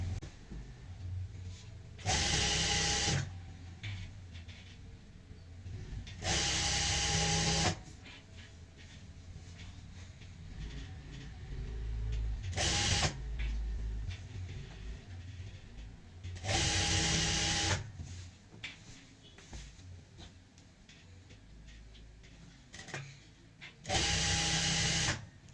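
A sewing machine stitches a palazzo seam in several loud bursts of rapid whirring, separated by quieter pauses with handling sounds.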